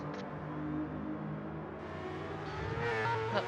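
Race car engines in a sim racing game at Laguna Seca, several engines idling and revving together, rising in pitch near the end, moderately quiet behind the scene.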